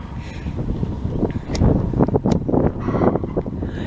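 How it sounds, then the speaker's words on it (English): Gusty wind buffeting the microphone, with uneven low rumbling bursts that rise and fall, close and moderately loud. "it's just a little bit windy"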